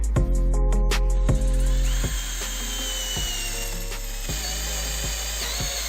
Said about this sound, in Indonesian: Sekarang kita coba untuk melakukan pengeboran di kayu yang keras, kayu meranti, menggunakan mata bor yang kecil dulu